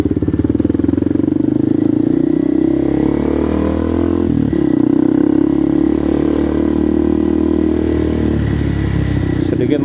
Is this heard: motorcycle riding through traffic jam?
yes